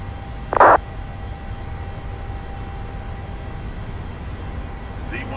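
Jet engines of a PMDG 737 roar during the takeoff roll in Microsoft Flight Simulator, a steady broadband rumble held at a constant loud level, with a short burst of pilot speech near the start.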